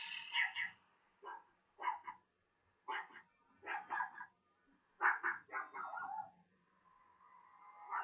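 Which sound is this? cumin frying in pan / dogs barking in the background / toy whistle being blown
dogs barking in the background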